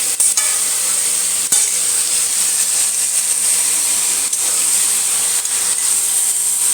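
Eggplant sautéing in a pan for a thin hilsa fish curry, a loud continuous sizzle close by with a few sharp clacks of a spatula scraping and stirring.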